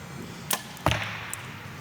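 Arrows striking a target at the Lancaster Archery Classic women's masters competition, with two sharp thuds about a third of a second apart and a fainter click after, over a quiet indoor hall.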